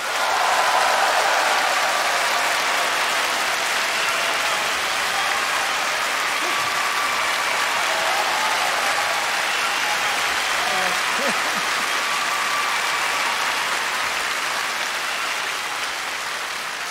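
A large audience greets a veteran Korean singer at a televised music show with sustained, dense applause that stays loud and even throughout, like steady rain.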